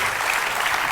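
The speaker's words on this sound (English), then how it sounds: "May I once again request you to give His Holiness a warm round of applause." Audience applause at a talk on press ethics given by His Holiness, a dense, continuous wash of many hands clapping, loud and close.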